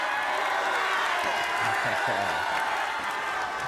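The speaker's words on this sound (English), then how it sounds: "Always gotta love it when the crowd gets excited" A large stadium crowd at a high school football game, Centerville versus Springboro, roars and cheers steadily throughout, a dense wash of voices and applause with no gaps.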